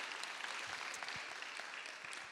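An audience at a high school freshman parent night claps in a steady, dense patter that sounds fairly distant and quiet, tapering slightly toward the end.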